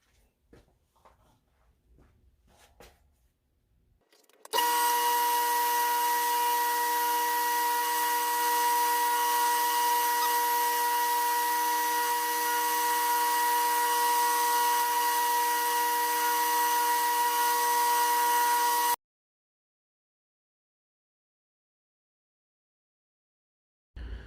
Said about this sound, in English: bevels are ground out.